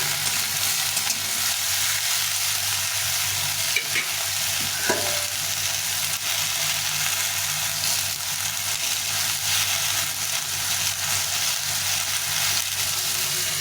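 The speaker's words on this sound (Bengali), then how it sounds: "এইভাবে ঝিঙেটা ভেজে নেবো" Sliced ridge gourd fries in oil in a pan, a dense, even, close sizzle running continuously with a couple of faint utensil taps.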